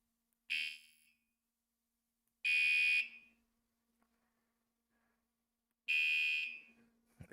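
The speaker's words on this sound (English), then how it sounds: "But it also has a horn." Horn of a Paselec PX1 e-bike sounds three times, each a loud, shrill electronic beep lasting about half a second, separated by pauses of silence.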